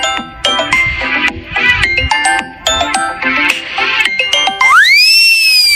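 A mobile phone rings with bright, chiming ringtone notes over a busy musical backdrop, ending in a loud rising electronic tone that holds steady.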